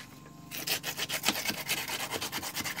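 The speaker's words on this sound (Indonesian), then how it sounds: "Setelah kita semprot air, lalu kita amplas lagi menggunakan amplas." Sandpaper rubs back and forth over wet body filler on a refrigerator body, a steady rapid rasping rhythm of close strokes starting after a brief quiet moment.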